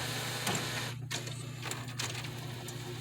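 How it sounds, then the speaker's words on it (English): An Epson 7620 inkjet printer runs a printing cycle with a steady mechanical hum and whir, broken by clicks and a brief shuffling of the carriage, close by and fairly quiet. "That's the printer saying that it's printing."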